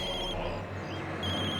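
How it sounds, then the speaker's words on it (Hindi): A phone rings steadily with a thin, electronic tone over a noisy background, continuing throughout without pause. "तुम्हारा फोन बज रहा है।"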